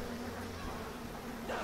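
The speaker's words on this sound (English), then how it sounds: "Are the bees attacking them?" Bees buzz in the BioShock video game, a steady, faint insect drone holding evenly for under two seconds with no voices over it.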